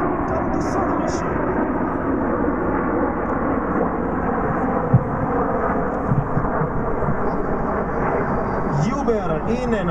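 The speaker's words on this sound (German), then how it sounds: "Über Ihnen öffnen sich die neuen Flugzeuge zu La Bomba!" Frecce Tricolori jets at the Airpower 2011 air show in Zeltweg roar overhead as a steady, loud broadband rumble that fills the whole stretch, with brief higher whines near the start and end.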